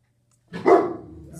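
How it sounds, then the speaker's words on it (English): A single close dog bark, loud and abrupt, starting after a moment of silence and trailing off into a brief growly tail indoors. "sorry about Zeus barking in this video"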